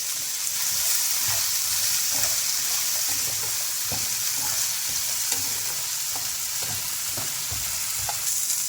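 Small shallots fry with curry leaves and salt in oil for a Kerala mackerel pickle, a close, continuous hissing sizzle with faint stirring and no voices.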